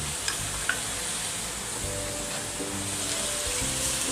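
Mixed mushrooms with oyster sauce and tomato being stir-fried in a pan, a steady close sizzle with soft stirring scrapes and a couple of brief clinks.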